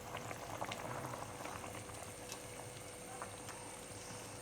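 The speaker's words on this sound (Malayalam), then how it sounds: "നമ്മുടെ മീൻകറിയുടെ ഗ്രേവി തിളച്ചോന്നൊന്ന് നോക്കാം. നല്ല സൂപ്പറായിട്ട് തിളച്ച് വന്നിട്ടുണ്ട്" A pot of fish curry gravy made with mackerel pieces and kudampuli bubbles at a steady rolling boil, soft and close, with continuous small pops and no talking.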